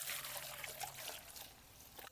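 Fuel trickles from a container to soak the wick of a Mexican star fire-spinning prop, a faint, thin liquid pour with light splashing, quiet and close, with no voices.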